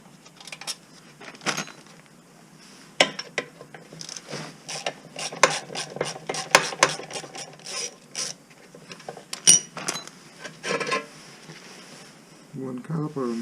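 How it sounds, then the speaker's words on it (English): A ratchet clicks in quick, uneven runs while undoing the brake caliper bolts on a Honda EP3, close and clear, with a few clanks of tools and metal parts between the bursts. "let's take off the caliper now finally. We've got access to the bolt finally."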